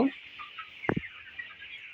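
Broiler chickens, twenty-three days old, on a poultry farm give soft scattered clucks, with one louder close call standing out near the middle over a steady background hum.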